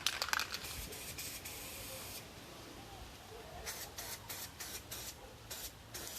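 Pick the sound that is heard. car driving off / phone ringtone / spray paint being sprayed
spray paint being sprayed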